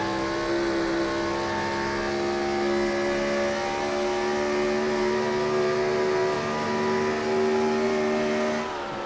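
Gen 4 NASCAR race cars at Charlotte, a loud sustained engine drone at high revs with steady tonal whine, close and continuous, no talk.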